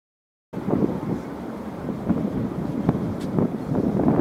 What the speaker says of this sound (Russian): Ветрено встретил нас Гамбург, но ничего. Ветер.